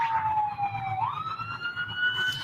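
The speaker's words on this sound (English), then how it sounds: "You can hear sirens behind me." Emergency vehicle siren wailing at a highway accident scene on a shut-down stretch of 45 near Cypress Wood, one continuous rising and falling tone carrying clearly over steady low traffic rumble.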